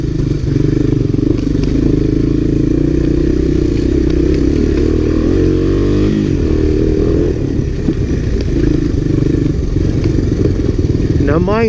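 A 1980s Honda Big Red three-wheeler engine labours steadily in low gear on a trail ride, a loud continuous drone with rattles and scrapes and no pause.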